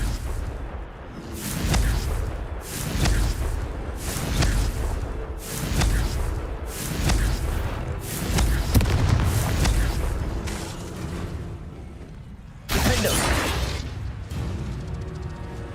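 Confringo fire spell explosions in Hogwarts Legacy, a run of repeated booming blasts and whooshes roughly every second, loud and close, with a final heavier burst near the end.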